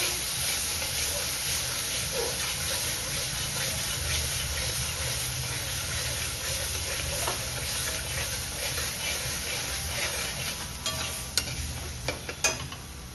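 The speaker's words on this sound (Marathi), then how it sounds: "मसाले तेलात परतून घ्यायचे" Dry spices including red chilli powder sautéing in hot oil for a rustic matki curry, a steady close sizzle and hiss with occasional stirring scrapes and clinks toward the end.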